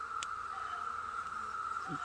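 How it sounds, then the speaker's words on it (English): A steady honey bee drone buzz hums close by without pause, a constant drone like a large bee hovering near the ear. "This big bee that's almost landing on me is a drone."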